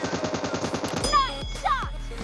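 Automatic gunfire in the game PUBG Mobile, with a rapid burst of evenly spaced shots followed by a louder crack or two and ringing tones.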